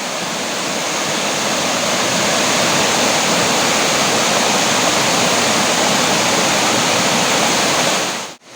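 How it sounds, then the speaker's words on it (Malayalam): Waterfall at Choriyankunnu with water flowing hard, a loud, dense, continuous rushing roar that holds steady before cutting off abruptly at the end. "വെള്ളം നല്ല അടിപൊളിയായിട്ട് ഒഴുകുന്നുണ്ട് കേട്ടോ"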